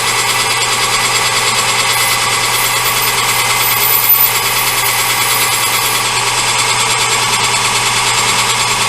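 Lathe rough boring a hex die holder, taking cuts of about 20 thousandths at a time, gives a steady, loud, continuous machining drone with a faint hum underneath. It runs unbroken throughout and carries no talk.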